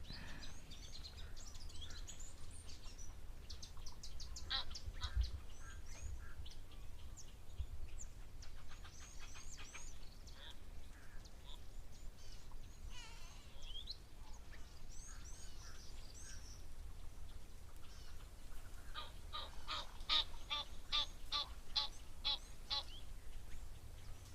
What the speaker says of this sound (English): Rhino heard the geese flying and got a bit of a fright.